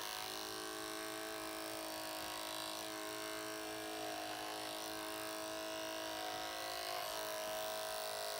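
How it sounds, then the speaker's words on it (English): An electric hair clipper cuts hair over a comb in a barbering session, a steady, fairly quiet buzzing drone that runs unbroken throughout, close by with no talk. "So it's pretty amazing with what you can do with just a clipper."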